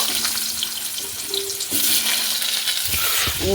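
Food fries in a pan while a dal and soybean dish is cooked, producing a constant near sizzle with light stirring clinks and a louder surge of hissing partway through.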